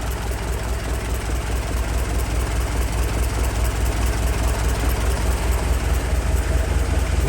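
A 1914 Ford Model T Speedster engine idles steadily, a loud, close, even low rumble with a fast, regular chugging pulse that holds constant throughout with no voices.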